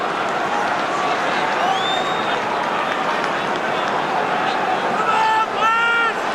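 A football stadium crowd at an Everton v Liverpool match keeps up a broad, steady roar and cheer, while a commentator talks over it.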